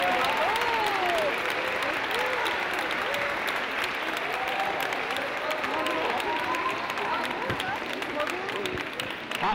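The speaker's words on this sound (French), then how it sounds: "on peut les applaudir." Sustained, dense audience applause at an award ceremony for women in aeronautics trades rolls on throughout, with voices and shouts from the crowd mixed into the clapping.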